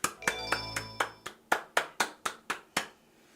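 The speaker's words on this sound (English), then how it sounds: "A round of applause for Steve" Game-generated applause after the Chao Karate championship win in Sonic Adventure 2: a dozen distinct, evenly spaced claps over a soft tonal background, loud and dry, with no talk.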